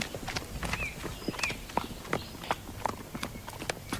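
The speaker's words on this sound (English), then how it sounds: "Alright, we're going for a bit of a trot now." A horse trotting at a stable, its hooves clip-clopping in a quick, steady two-beat rhythm of sharp, close strikes, with light rustling and a faint voice in the background.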